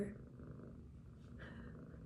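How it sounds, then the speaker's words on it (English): A cat purrs softly and continuously, very faint and close-up, with a low rumbling rhythm and no talking over it. "She's purring like crazy right now."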